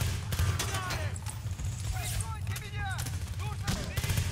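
Rapid gunfire crackles through a Battlefield: Bad Company 2 match, with dense bursts and distant artillery-like booms layered throughout, loud and continuous over game effects while a voice speaks briefly.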